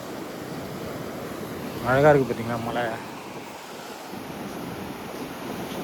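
Rough, agitated sea waves wash against the coast under gusting wind noise, a steady broad roar throughout, while someone speaks briefly in the middle.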